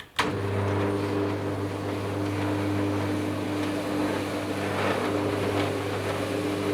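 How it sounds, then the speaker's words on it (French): Electric roller shutter motor lowering the shutter, a steady low mechanical hum with a tonal drone running continuously from a sharp start, fairly loud and close, no talking. "alors redescendez le volet roulant d'une cinquantaine de centimètres"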